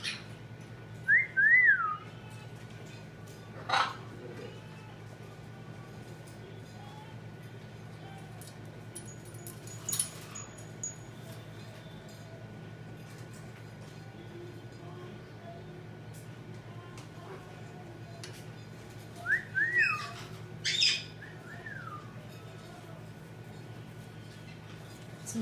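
Human whistling in short rising bursts answered by sharp squeaks from a pet lovebird, two clusters heard indoors against a low steady background hum.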